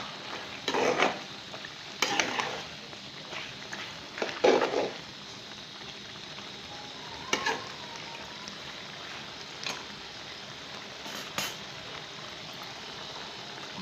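A chooly mixture with green chillies and coriander is stirred in a pan, giving a soft sizzle with several distinct spoon scrapes and clatters, no voices.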